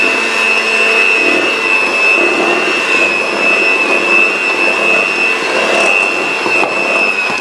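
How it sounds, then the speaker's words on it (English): An electric hand mixer beats butter for chocolate chip cookie dough, a loud, steady, high motor whine that holds throughout with slight wavering, with no talking. "I just use one of these hand mixers."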